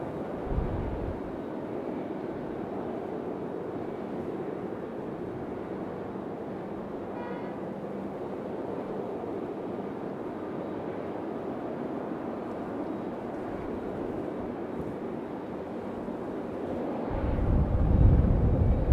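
A Southwest airliner moving at Raleigh-Durham airport produces a steady distant jet engine roar with wind rumble, holding even for most of the stretch before swelling louder at the very end, with no talking.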